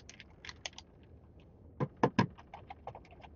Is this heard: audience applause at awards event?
no